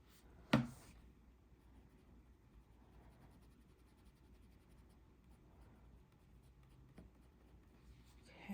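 Soft, faint scratchy strokes of a colored pencil moving across paper, quiet and close, with a sharper tap near the start.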